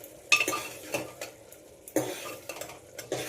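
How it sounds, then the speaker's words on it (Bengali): Mushrooms are sautéed with spices in a pan, with a soft sizzle under repeated scraping strokes of a utensil against the pan, several sharp clinks spaced about a second apart. "খুব ভালোভাবে কষিয়ে নিতে হবে মশলার সঙ্গে"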